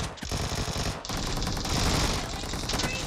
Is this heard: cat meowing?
no